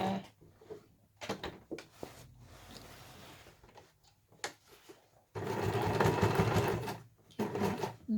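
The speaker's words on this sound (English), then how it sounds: "So you just sew your square," A sewing machine stitches a square through one layer of a fabric eco shopper bag to secure the handle, running in short stop-start bursts and then one longer steady run near the end.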